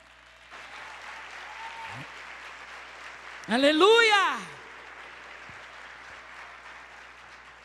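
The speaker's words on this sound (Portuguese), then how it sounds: "Você pode aplaudir o Senhor?" A church congregation applauds steadily through a sermon, a moderate continuous clapping, while a voice cries out loudly in the middle over the applause.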